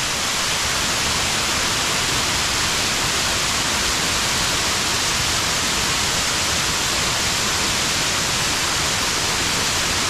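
A steady, roaring wash of falling water from a high waterfall fills the whole clip, loud and close, with no pauses or changes in intensity.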